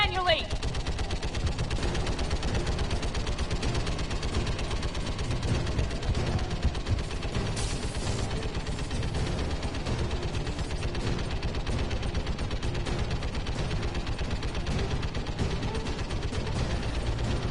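Anti-aircraft guns in Mass Effect 3 fire in a dense, continuous mechanical barrage, loud and sustained for the whole stretch, with clattering game effects layered over a steady roar.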